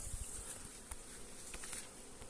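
Honeybees from a swarm arriving at an apiary on an August evening make a soft, continuous buzzing drone, faint and distant, with no voices.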